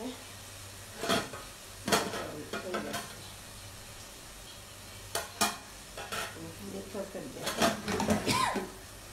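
A spoon stirs and scrapes potatoes and beans frying in a sizzling pan while chili is added, giving irregular clattering bursts over a steady low sizzle, with a voice talking throughout.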